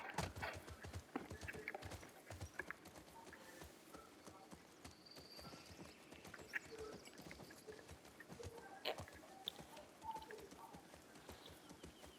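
A horse cantering in The Last of Us Part II, its hooves beating a steady rhythmic clip-clop close by with faint birdsong in the background.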